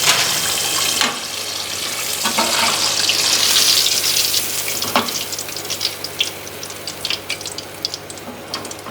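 Chicken pieces fry in oil for a KFC-style zinger burger, giving a loud, continuous hiss with scattered crackling pops near the end and no voices.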